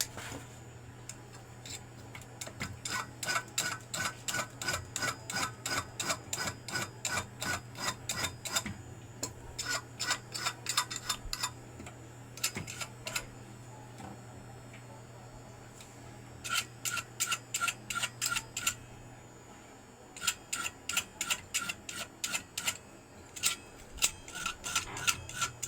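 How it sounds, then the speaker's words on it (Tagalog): A hot metal piece filed by hand, heard as quick rhythmic rasping strokes in repeated bursts separated by brief pauses, close and fairly even in loudness. "Ito po, kikil natin."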